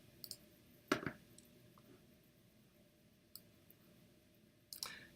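Computer mouse clicks while confirming a dialog during a MySQL Server install on a Mac: a sharp near click around one second, a faint tap mid-way and another quick pair near the end, quiet room otherwise.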